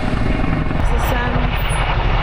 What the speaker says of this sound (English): there's a Chinook helicopter with a water sack